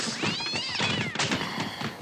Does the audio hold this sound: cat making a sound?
yes